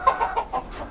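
Chickens clucking on a poultry farm, a few quick close clucks in a short run with no talk.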